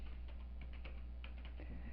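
Fingers tap quickly on a computer keyboard, a close run of light clicks in irregular bursts over a low steady hum.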